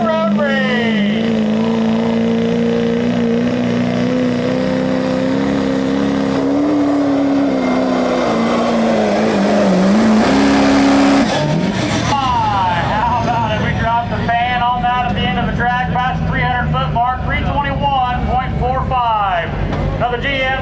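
A GM Duramax diesel truck engine in a road race event, loud and close, holding a steady drone that rises toward a high-revving peak, then drops off sharply before running on with an uneven, pulsing engine note and announcer talk over the top.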